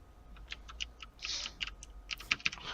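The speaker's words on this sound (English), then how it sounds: "My cherry green keyboard." Fast, uneven typing on a mechanical keyboard with Cherry green switches, crisp clicky keystrokes at close range, quiet and with no talking.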